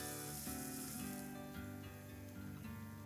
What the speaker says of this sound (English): Saute the onions till they are golden brown.